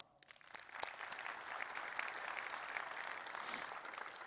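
An audience at a tech conference talk on building a 3D multiplayer game applauds steadily, a dense, even patter of many hands that starts abruptly and holds at moderate volume to the end.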